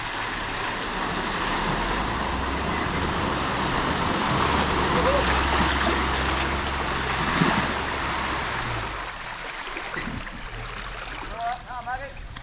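A car fords a river near Lockhart River on the way to the Wenlock, a broad rushing wash of water and splashing around the vehicle, close and steady, fading slightly near the end, with voices faintly present.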